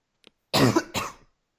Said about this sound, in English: Oops, I coughed.